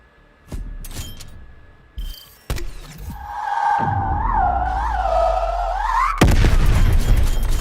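A launcher round fired in Black Ops Cold War on a raid map lands near the enemy spawn. Sharp thumps come first, then a rising whine as the round flies, and a loud, heavy boom closes the clip.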